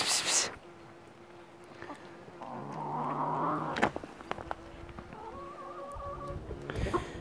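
A cat gives a couple of drawn-out, wavering meows, close by, with faint rustling and a few clicks around them.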